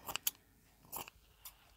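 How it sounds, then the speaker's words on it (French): Blunt scissors snipping through a piece of gauze during craft embellishment for a junk journal, a few sharp crisp cuts close by, spaced irregularly with quiet pauses between. "Mes ciseaux qui ne coupent pas."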